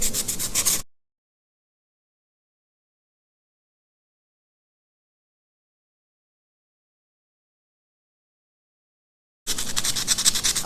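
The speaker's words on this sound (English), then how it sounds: "Now I will use the sandpaper to smooth it." Sandpaper rubs over a carved cake dummy to smooth it, making close, rasping scrubbing in two short bursts at the start and end with dead silence between.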